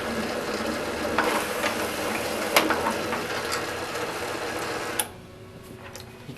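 An Advent 300 labeler applies a label to a 1-gallon jug, giving a steady mechanical whirring and clicking with a few sharp ticks, then stopping abruptly, leaving a quieter hum.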